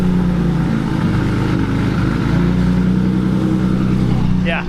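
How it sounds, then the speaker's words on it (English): A BMW E30 drift car's engine runs steadily at idle, a loud, close, continuous rumble that holds an even level throughout. "Dale's car is done. Right here running."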